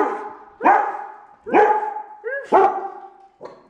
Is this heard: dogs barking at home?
yes